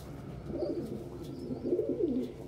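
A pet bird, pigeon-like, gives soft, low cooing calls in two short bursts close by, with faint chirps in the background and no talk.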